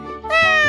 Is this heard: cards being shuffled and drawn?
no